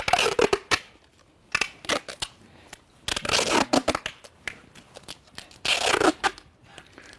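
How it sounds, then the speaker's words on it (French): Adhesive tape pulled off the roll and wrapped several turns around a cow tail sensor on a Charolais cattle farm, giving repeated sharp crackling rips in bursts with short pauses between, close up. "On met 4 tours ou 5 tours de scotch."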